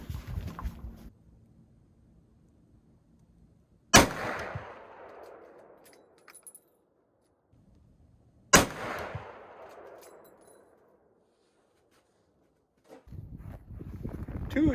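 Two loud, sharp rifle shots from a Winchester Model 70 in .458 Winchester Magnum firing 350-grain bullets, spaced several seconds apart, each with a long decaying echo, plus some handling noise between them.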